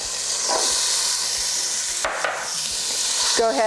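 Diced onion and garlic sautéing in a soup pot, giving a steady broadband sizzle with scraping stir strokes throughout, close and fairly loud, no talking.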